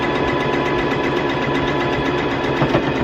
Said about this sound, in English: we're gonna sew along the edge here and along the edge